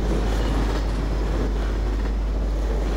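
Loud, steady rumble and rattle of a moving train ride in Precursor, a Source mod video game, with a heavy low drone that continues without a break.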